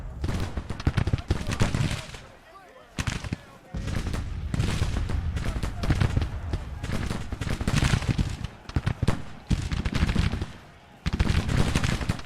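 Continuous volleys of musket and cannon fire roll through a Civil War battle in Grand Tactician: The Civil War, loud and dense with brief lulls, sustained for the whole stretch.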